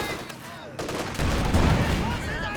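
Rapid bursts of machine gun fire crackle through a Company of Heroes 2 multiplayer battle, dense and overlapping, with the clatter thickening partway through amid other combat noise.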